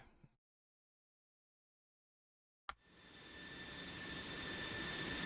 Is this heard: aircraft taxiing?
yes